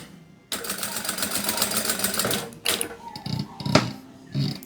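A sewing machine in a home atelier runs a straight seam without backstitching, a burst of rapid whirring stitches followed by a few clicks and knocks of the presser foot being lifted and fabric shifted.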